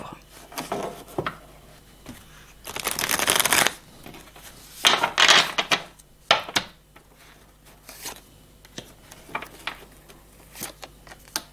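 Tarot cards are shuffled and laid out on a table in several close, crisp riffling bursts with soft slaps and pauses between them.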